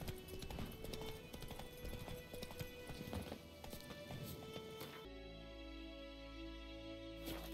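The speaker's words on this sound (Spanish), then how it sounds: "Caballo" Horse hooves clip-clopping in The Witcher 3, a steady run of sharp hoofbeats at a walk or trot for about five seconds, then the sound gives way to a quieter game ambience.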